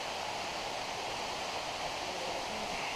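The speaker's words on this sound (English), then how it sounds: "And there's the waterfall. Oh, it's flowing good." Waterfall at Third Stream Crossing in the Cucamonga Wilderness pouring steadily, a dense, constant broadband rush close by that fills the whole stretch without letup or voices.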